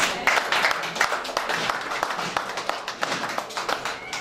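A church congregation claps together for Jesus during a worship service, producing dense, sustained applause with sharp hand-slaps throughout and a few voices mixed in.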